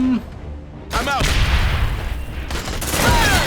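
Loud bursts of gunfire and booming explosions crash in quick succession in the video game Aliens: Dark Descent, with whooshing effects and an energetic voice faintly underneath.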